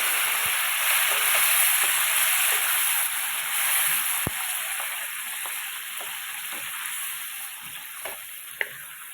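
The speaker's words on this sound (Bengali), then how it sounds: "এর মধ্যে আমি 1 কাপ একটু উষ্ণ জল মিশিয়ে দেব।" Warm water hits a pan of frying chickpea ghugni masala, setting off a loud, close, sustained sizzle that gradually eases, with a few scattered ticks and pops.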